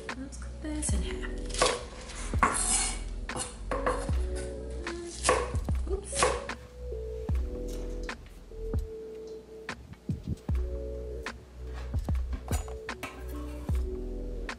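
Kitchen knife chopping green onion on a cutting board, a fast irregular series of sharp taps and clicks that pause briefly midway and then resume, close and crisp.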